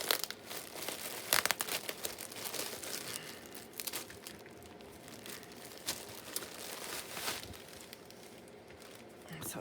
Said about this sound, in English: I'm ripping the bag, but that doesn't matter.